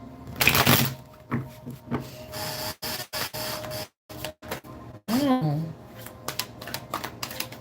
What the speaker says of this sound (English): why are the cards flipping everywhere?